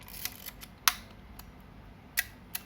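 A Minolta Hi-matic 7 film camera's shutter tripping at 1/500 second: several short, bright clicks at uneven intervals, close and distinct against a quiet background.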